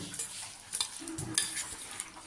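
Fish coated in salt and turmeric sizzles in hot oil, a soft continuous hiss with a few brief scraping stirs and spatters close by.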